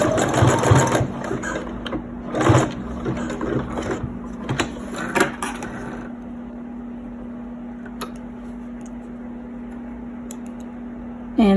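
A sewing machine stitches elastic onto a fabric face mask, running in several quick bursts close by with a steady motor hum, then falling quieter toward the end.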